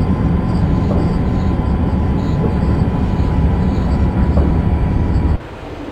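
A Pennsylvanian passenger train in a rail simulator rumbles steadily along the tracks on the approach to New York, a loud continuous roll with faint wheel squeal, cutting off abruptly near the end.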